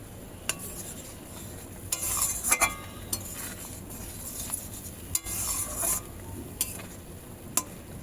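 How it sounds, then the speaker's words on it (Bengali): Eggs go into a curry gravy in a pan and are stirred, giving a soft simmering bubble. Sharp clinks of a utensil against the pan break in at intervals, with no speech. "এবারে আমি ডিমগুলো দিয়ে দেব।"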